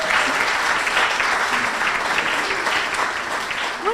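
An event audience gives the co-chairs a warm round of applause, with dense, close clapping sustained evenly for several seconds.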